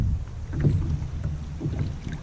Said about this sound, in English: So as you can tell, the wind's blowing pretty hard.